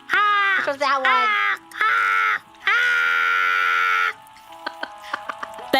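A voice imitates a crow with a string of nasal, drawn-out caws, each loud and held, separated by short gaps, followed by fainter clicking sounds.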